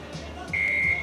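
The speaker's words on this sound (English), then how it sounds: "You got two beeps" A workout interval timer gives a single sustained, loud electronic beep lasting about half a second, sounding over a faint background of low room noise.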